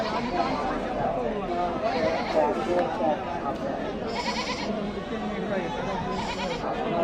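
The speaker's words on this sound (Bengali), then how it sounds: "দেশি টাইপের দেশি জাতের ছাগল" Local-breed goats bleating intermittently at a busy livestock market in Natore, set against a constant crowd of chattering voices.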